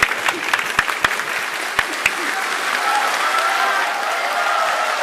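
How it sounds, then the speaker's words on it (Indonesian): Audience applause fills a hall during a 2014 Indonesian presidential debate, beginning with scattered sharp claps and swelling into a steady, dense wash of clapping that continues to the end. "Silakan berikan tepuk tangan."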